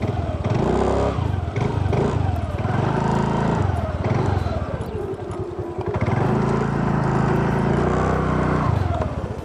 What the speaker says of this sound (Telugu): ఇప్పుడు ఈ జూపిటర్ యొక్క ఇంజన్ సౌండ్ చెక్ చేద్దాం